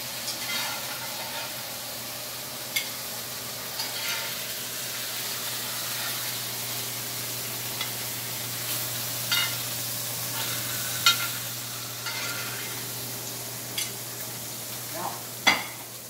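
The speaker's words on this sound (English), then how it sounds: "so they've been browned on both sides, get it colored, or remove them from the pan" Pork chops browning in a hot pan with oil, a steady low sizzle and hiss running throughout with occasional sharper pops and crackles, no talking.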